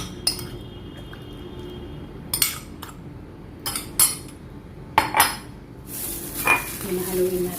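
Chicken wings tossed in garlic barbecue marinade in a bowl, with sharp clinks and scrapes of a utensil against the dish at irregular intervals, close by, between quieter pauses and a final burst of rustling mixing.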